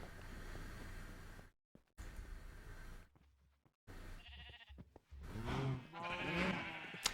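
Sheep in the Minecraft video game bleat several times, close and clear, as short wavering cries near the end after stretches of quieter ambient game sound and brief silences.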